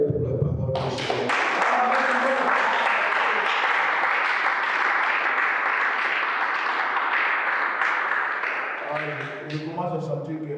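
A church congregation breaks into sustained, roomy applause lasting several seconds, with a voice heard briefly before the clapping swells and again as it fades out.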